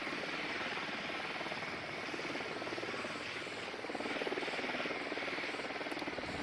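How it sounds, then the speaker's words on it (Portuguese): A drone flies in Ghost Recon Wildlands, giving a continuous buzzing rotor whir that holds steady, with a slight swell near the end. No speech is heard over it. "The drone is up."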